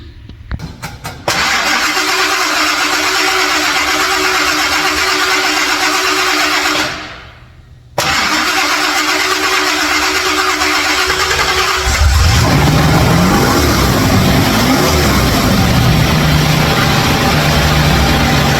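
A 1969 Ford Boss 302 V8 is started with a Power Master high-torque starter. Loud cranking runs for several seconds, breaks off briefly, resumes, then the engine catches and settles into a strong, close running rumble.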